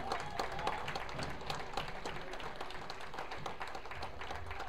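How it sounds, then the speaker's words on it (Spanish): Faint, distant congregation applause in a bilingual church service, a sustained patter of many hands clapping at low level throughout. "denles aplausos al Señor Jesucristo"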